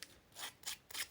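Three quick scissor snips trim the corner of a soft pink paper journal to round it, each cut a short crisp rasp, close and clear with no talking.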